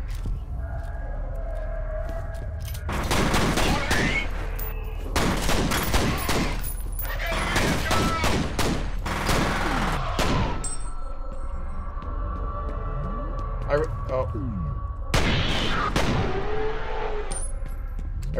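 Loud gunfire in the first-person shooter video game F.E.A.R., with repeated bursts of shots and sharp cracks in a sniper encounter, some heavy volleys and echoing impacts, over a constant low game hum.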